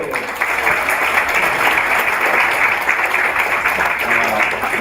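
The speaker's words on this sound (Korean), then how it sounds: "박수 한번 하고 합시다" A lecture audience claps together in a full, steady burst of applause that holds evenly for several seconds without other sounds.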